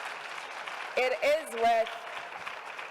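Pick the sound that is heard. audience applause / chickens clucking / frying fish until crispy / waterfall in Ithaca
audience applause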